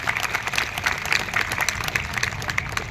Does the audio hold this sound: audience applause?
yes